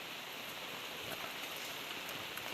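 Steady morning rain falling on surfaces outside a house, an even hiss of drops with no pauses, moderately faint and continuous.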